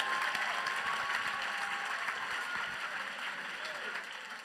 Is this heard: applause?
yes